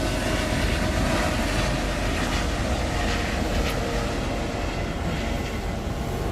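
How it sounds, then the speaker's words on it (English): A steady, loud roaring rumble of a helicopter passing overhead, continuous without breaks and no talking. "the helicopter flying by"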